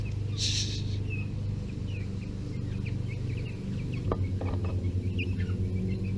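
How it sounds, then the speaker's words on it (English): Soft clucks and small peeps from young chickens playing scattered over a steady low hum, with a brief scratchy rustle near the start. "Chicken play is important at this age."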